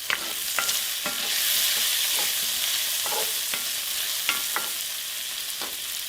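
Chopped green onions sizzling in a pot for Mexican carne en su jugo beef stew: a continuous bright sizzle with occasional scraping stirs of a utensil, steady and close, no talking.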